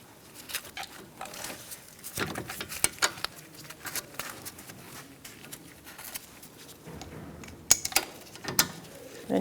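A ratchet works on the brake caliper bolts of a 2010-2013 Kia Soul during a front brake job. Rapid clicking runs come in bursts with irregular pauses, close and moderately loud, with no talking.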